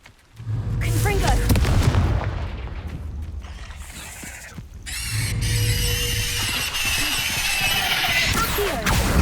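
A fiery Confringo blasting spell goes off in Hogwarts Legacy: loud, close booming crashes and explosive bursts, fading and then returning in a second burst of blasts with crackling debris.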